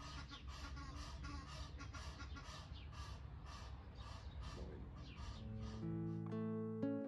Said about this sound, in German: am Morgen werde ich kaum überhörbar von zwei Gänsen begrüßt